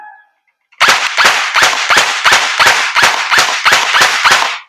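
An EC637 airsoft electric rifle fires semi-auto, giving about ten sharp, evenly spaced close shots after a brief faint tone and a moment of silence.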